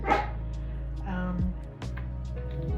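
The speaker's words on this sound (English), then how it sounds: "that's my dog barking in the background" A dog barks a few times, short sharp yaps spaced apart, over a low steady hum in the background.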